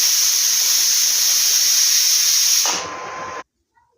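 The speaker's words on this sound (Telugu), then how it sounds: "కుక్కర్ పెట్టుకొని మూడు విజులు కానీ నాలుగు విజులు కానీ రావాలి" Pressure cooker whistle releasing steam while bottle gourd curry cooks, a loud, sustained hissing blast close by that drops slightly in pitch before cutting off abruptly.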